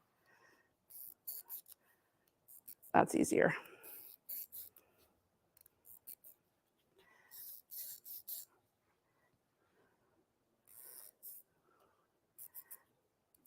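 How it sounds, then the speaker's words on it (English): A chalk wheel rolls over fabric to mark a Christmas tree shape for a garland, giving faint, dry, scratchy strokes in short separate bursts with quiet pauses between, and a brief spoken remark in the middle. "All right, I got my chalk wheel now."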